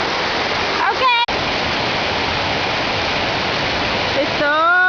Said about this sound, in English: Here's a little side cascade.